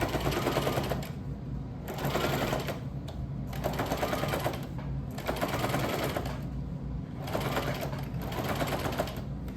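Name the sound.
sewing machine stitching fabric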